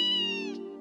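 A kitten meows once in Trails in the Sky SC, a clear, close, drawn-out cry that slowly falls in pitch.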